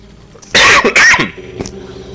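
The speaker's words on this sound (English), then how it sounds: "God, can't stop coughing." A soldier in the Men of War Assault Squad 2 war game, with a Starship Troopers mod, coughs twice in two loud, close, harsh bursts over a faint battle hum.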